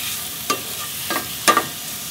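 Mushrooms frying in a little oil in a pan for japchae, a low sizzle broken by three brief stirring scrapes, quiet and without speech.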